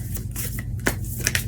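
A deck of tarot cards being shuffled by hand, quick soft riffling and flicking with a few sharper snaps, close and alone.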